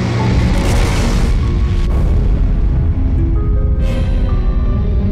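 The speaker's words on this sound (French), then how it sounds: "L'explosion, qui a eu lieu au-dessus de la Sibérie, a dégagé une énergie équivalente à 15 mégatonnes de TNT." A massive asteroid airburst over Siberia, equivalent to 15 megatons of TNT, renders as a dense, sustained low rumbling boom that fills the whole stretch loudly and evenly, with faint crackling texture above.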